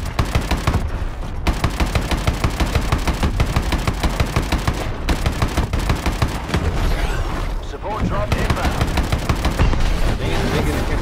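Sustained automatic gunfire from Call of Duty Advanced Warfare rattles almost continuously, loud and close, with short pauses between bursts and occasional booms beneath.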